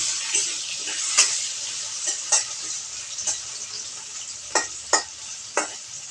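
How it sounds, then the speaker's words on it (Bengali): Long beans, potato and prawns in a curry are stirred in a pan with the lid off, a soft ongoing sizzle punctuated by several sharp spoon scrapes and taps at uneven intervals, no talk. "ঢাকনাটা তুলে একটু নাড়াচাড়া করে নেব"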